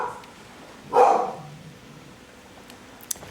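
A single dog bark rings out in Skyrim, one short loud burst standing out from a quiet ambient background, followed by a faint click near the end.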